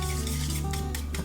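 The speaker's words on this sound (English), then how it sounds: "I'm slightly mixing this up" A spoon briefly stirs a runny pumpkin sourdough bread pudding mixture in a shallow bowl, soft scraping swirls under a steady musical bed.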